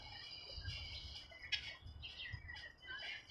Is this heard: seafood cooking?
no